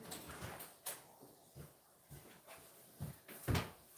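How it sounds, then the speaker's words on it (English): A household door and nearby fittings give a series of faint, separate knocks, creaks and thumps, with a firmer bump near the end, at a modest distance in a quiet room with no talking. "Sorry, I gotta get the door for Larry."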